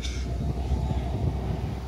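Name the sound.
Alaska Rail train heading to the harbor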